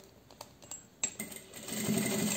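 A sewing machine stitches a double-sided curtain with a ruffled trim, first with a few clicks, then a steady rising whir of stitching, close and moderately loud with no talk.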